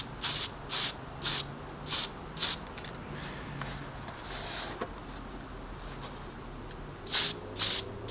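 An aerosol spray paint can sprays model trees for an N gauge shelf layout in short, close hissing bursts, five in a quick rhythm, then a pause and two or three more bursts at the end.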